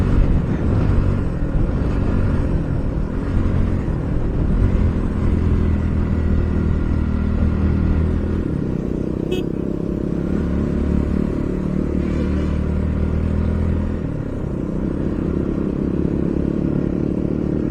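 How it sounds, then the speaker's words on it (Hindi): Several motorcycles on a group ride, one a KTM RC 200, produce a loud, continuous engine rumble and wind roar that barely changes for the whole stretch, with no talk. "भाई लोग और एक बाइक आ रहे हैं अभी"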